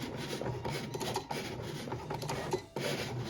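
A Cricut Explore 3 cutting machine slices vinyl with a quiet, steady rasping and scraping hum, broken by a brief pause near the end before it resumes.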